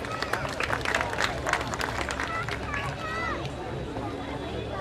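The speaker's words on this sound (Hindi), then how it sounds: "जोर से तालियां बजाइए इन बच्चों के लिए" An audience at a school science and culture festival claps for children, a dense patter of applause filling the hall under loud speech from a host on a microphone.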